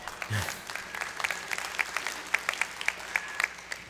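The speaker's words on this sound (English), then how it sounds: "you're getting some applause for that" A live audience claps during an interactive conversation session with Glenn Greenwald, a soft, fairly distant patter of applause with a few sharper claps standing out over several seconds.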